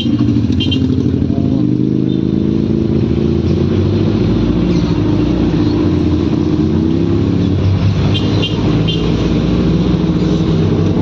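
A Harley-Davidson motorcycle engine rumbles steadily and loudly up close for the whole stretch, a continuous low throbbing with some clatter and faint revving.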